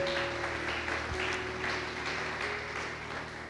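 A church congregation claps continuously and fairly loudly during a service, with the steady applause going on over a low sustained instrumental tone.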